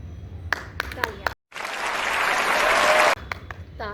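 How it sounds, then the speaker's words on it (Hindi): A group claps and cheers in a burst of applause lasting about two seconds, coming after speech and a brief silence during a playful rock-paper-scissors game. Voices return at the end. "तालियां।"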